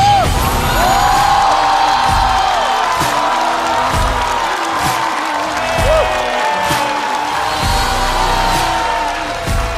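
A studio audience at a Chinese stand-up comedy show claps and cheers, with loud whoops and shouts rising over sustained applause and a presenter's voice introducing performers.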